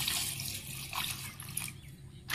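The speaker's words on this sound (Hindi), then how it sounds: "कढ़ाई में डालने के बाद अब मैं इसमें डालूंगी पानी।" Quiet splashing and trickling of water being poured into a wok of pasta, with soft dripping and a brief louder splash at the end.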